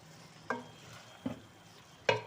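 A spoon scrapes three times through drumsticks and ground-meat qeema frying in a pan, each stir a short clatter over a low, steady sizzle.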